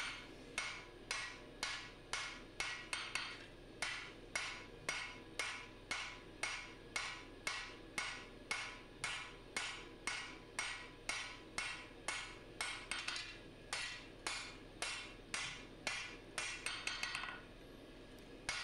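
A hammer strikes a forged Musso Bowie steel blade during straightening, giving a long, steady run of sharp metallic blows about two per second, close and crisp, each ringing briefly before the next, with no talk.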